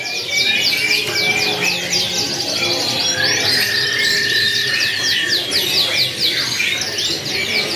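Canaries or finches sing at a bird market in a continuous bright stream of rapid trills, chirps and a sustained whistle, with several birds overlapping close by.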